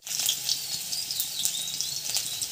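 Onions hiss and sizzle steadily in hot oil in a kadai, a bright, dense frying crackle that carries on evenly throughout without any voices.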